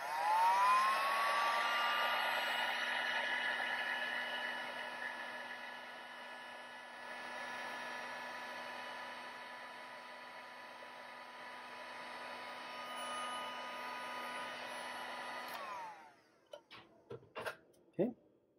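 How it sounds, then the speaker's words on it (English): Heat gun blowing on heat shrink tubing over a 22 AWG audio signal cable, a steady loud whirring hiss with a faint tone that runs for about fifteen seconds, then cuts off, leaving a few handling clicks. "We use our heat gun to apply heat to shrink."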